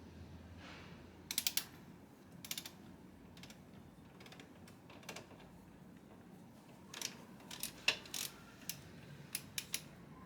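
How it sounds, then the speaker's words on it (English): A torque wrench ratchets while tightening the steering damper fasteners on a 2015 BMW F800GT motorcycle, giving faint clusters of quick clicks separated by quiet pauses over a low background hum. "Just put the steering damper back in right here with these two fasteners, and I'm going to torque those down."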